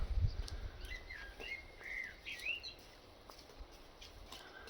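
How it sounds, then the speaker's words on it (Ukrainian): Small birds chirp and whistle in a forest beside a sanatorium, thin and fairly distant, over a low outdoor hum and a brief thump at the start. "а я послухаю тут пташок"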